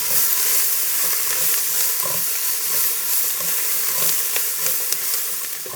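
Onions caramelizing in a pan for homemade tomato sauce, a steady close sizzle and hiss with scattered pops and light stirring scrapes.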